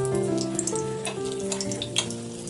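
Steady sizzling and crackling of chicken finger chips frying in oil over a low flame, a continuous close hiss with scattered pops, while a quiet musical tone plays underneath.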